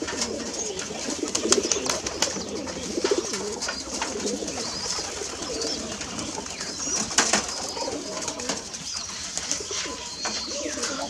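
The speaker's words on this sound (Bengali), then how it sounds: "সবগুলো অনেক ভালো মানের গিরিবাজ কবুতর" Flock of Giribaj pigeons on a pigeon farm, soft overlapping coos rolling on continuously with occasional sharper bursts and faint wing movement, no talking.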